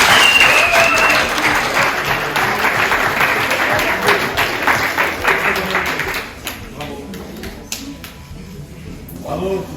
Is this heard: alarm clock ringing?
no